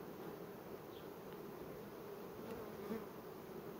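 Honey bees buzzing around an open hive, a soft, steady, close swarm hum with occasional individual bees passing near, faint overall and without speech.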